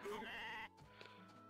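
Synthetic sheep bleat from the farming game Story of Seasons: A Wonderful Life, one loud wavering call lasting about half a second and then cutting off, leaving quiet game background.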